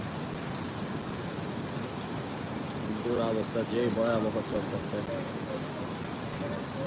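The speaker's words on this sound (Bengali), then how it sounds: "টানা বৃষ্টি হচ্ছে টানা তিন ঘন্টা বৃষ্টি হলো সমুদ্র সৈকতে" Heavy rain pours on a sea beach at Cox's Bazar in a constant, hissing roar, with a person briefly talking partway through.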